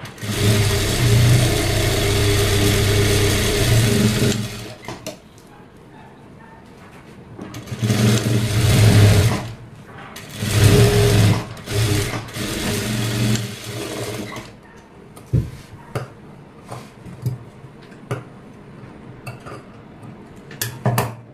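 A sewing machine stitching a puff-sleeve blouse runs in loud bursts of rapid mechanical whirring, several seconds each, separated by pauses filled with small clicks and handling taps.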